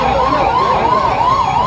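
A free town ambulance in Jamtara wails its siren loud and close, with a steady, repeating up-and-down warble that never pauses.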